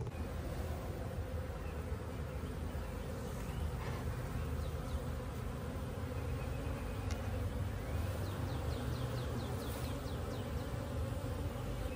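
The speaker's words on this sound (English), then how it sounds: "We're ready to move some bees." Honey bees swarm in a dense, continuous buzzing hum, close and steady throughout with no talk over it.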